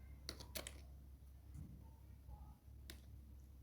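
A handful of quiet keyboard key clicks, a quick cluster at the start and a single tap later, over a low background hum.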